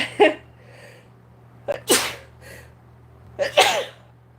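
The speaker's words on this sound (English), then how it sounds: "So I'm gonna sneeze." Three sneezes spaced a second or so apart during a live Bible study, each a sharp breathy burst with a short inhale before it, close and fairly loud over a low steady hum.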